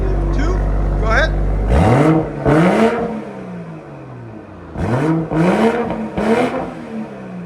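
A Toyota Supra GR with a 3.0L inline-six engine and aftermarket exhaust is revved repeatedly: loud rising bursts of engine roar that fall back to idle. The revs come in two pairs, close and dominant.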